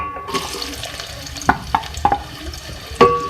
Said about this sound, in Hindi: सबसे पहले मैं ऑयल में 2 मीडियम साइज़ के प्याज ऐड करूँगी,